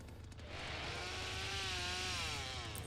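Chainsaw in The Texas Chain Saw Massacre game revving from a distance, a buzzing engine drone whose pitch rises and wavers, moderately faint over low background rumble, no talk.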